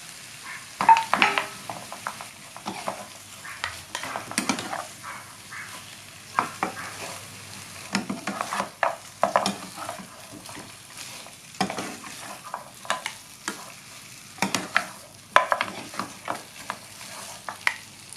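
Pork ribs with curry paste sizzle in a hot pan while a utensil scrapes and stirs in quick, irregular bursts, close up and fairly quiet.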